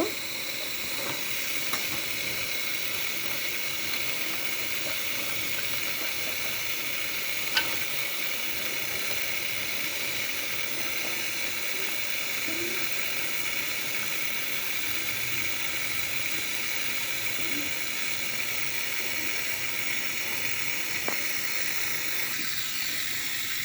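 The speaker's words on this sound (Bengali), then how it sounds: "মশলা কষানো হচ্ছে, এপাশ ওপাশ দিয়ে শাক সম্পূর্ণ মশলা দিয়ে নাড়াচাড়া করছি" Spices fry in oil with radish greens, eggplant and potato, a steady close sizzle and hiss that runs unbroken, with an occasional faint clink or stir from the pan.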